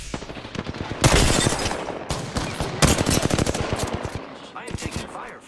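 Automatic weapon fire in Apex Legends arena combat, rapid bursts of close, loud shots in several strings with short pauses, while a player's voice speaks over part of it.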